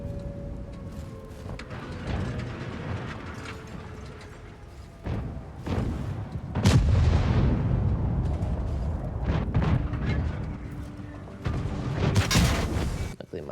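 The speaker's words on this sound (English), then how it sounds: "Luckily my tank absorbed that shot." Heavy cannon blasts and booming impacts from a World of Tanks battle, several loud explosive bursts spread across the stretch with mechanical rumbling of tanks between them.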